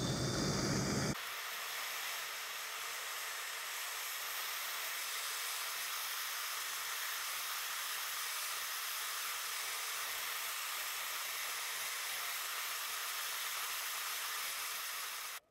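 Steady, loud torch hiss heating a silver pendant bezel from below on a charcoal block, a continuous roaring rush that holds evenly for about fifteen seconds before cutting off abruptly.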